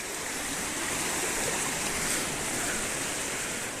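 Stream water flowing toward the Filo stream near Karabük makes a steady, loud, close rush with no break and no voices.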